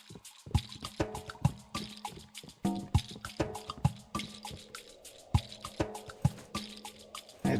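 Drinking water in the survival crafting game Tribe: Primitive Builder: a quick series of dripping, gulping liquid plops and splashes in an irregular rhythm, close and clear with no talk.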